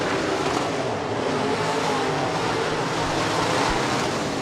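B-Modified race cars roar around Rapid Speedway during a heat race, a dense, continuous engine drone of several cars at a steady distance, with no clear passes standing out.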